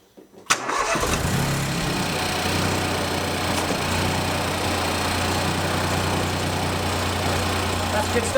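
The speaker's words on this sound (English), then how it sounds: "then we're going to start the engine and hear nice engine noises" A boosted Mini car engine cranks briefly and catches, then settles into a loud, steady, close idle with a rough mechanical hum that continues to the end.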